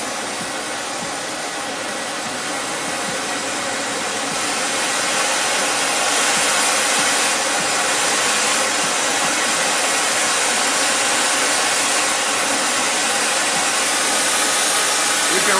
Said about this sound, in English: you can just keep turning up the acetylene and turning up the oxygen